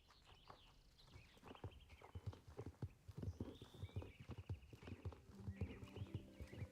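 Horse hooves clip-clop in a steady walking rhythm in the Star Stable Online video game, fairly close, with faint game tones and chimes layered behind.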